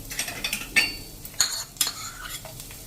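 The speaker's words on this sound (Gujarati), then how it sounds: "તો આપણું તેલ પણ ગરમ થઈ ગયું છે. તો અત્યારે મેં 1 ટેબલ સ્પૂન જેવું લસણના બાઇટ્સ કરી લીધા છે કળીના, એ નાખી દેશું." Chopped garlic dropped into hot oil in a pan while making a vegetable paneer tikka roll, heard as a soft sizzle with a series of sharp metallic spoon scrapes and clinks against the pan, fairly quiet and close.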